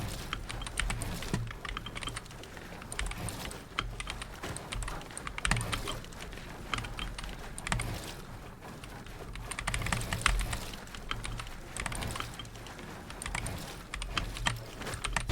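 Rapid clicky keystrokes on a budget gaming keyboard patter continuously at close range, a dense irregular stream of taps with occasional louder bursts and no talking.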